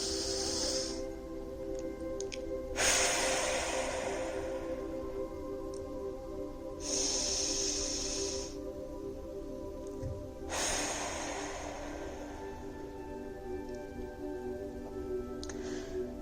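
Slow, deep exhalations during a guided meditation, three long breathy rushes spaced several seconds apart over a quiet room tone, close and soft, with no talking.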